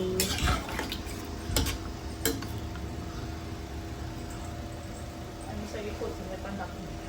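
Chicken pulav ingredients are stirred in a pot with a spoon, producing scattered metallic scrapes and clinks over a steady background hiss, louder near the start and fading to softer stirring.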